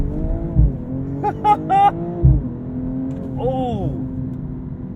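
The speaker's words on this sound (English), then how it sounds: "it's a pounding pop from the exhaust with the upshifts there" A 2022 BMW M240i xDrive coupe with its inline-six engine revving under load, then pounding exhaust pops on upshifts, heard close with someone talking over it.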